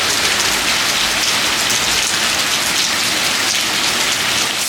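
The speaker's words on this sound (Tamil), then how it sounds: "மழை வர்றதே வீடியோவில் காமிச்சிட்ருக்கேன்னு நினைக்கிறீங்களா" Steady rain pours down in Kodaikanal, a dense, even hiss of drops on surfaces that stays loud and unbroken throughout with no voices.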